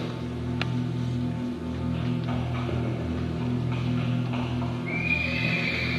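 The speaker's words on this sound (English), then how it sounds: "Hark! I hear horses." Horses neigh and whinny at a moderate distance, a long rising whinny standing out near the end over a low steady rumble and faint hoof clip-clop.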